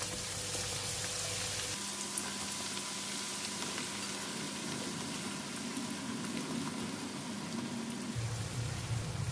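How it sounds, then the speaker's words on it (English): Onions frying in a full bottle's worth of hot oil, a steady dense sizzle that stays loud and close for the whole stretch with a slight shift in tone partway through. "we just want to fry the ingredients with the oil and for the onion to infuse into the oil"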